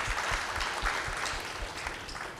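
Applause from the audience at an education leadership summit panel, a brief burst of many hands clapping in a steady patter, moderately close and fading slightly at the end.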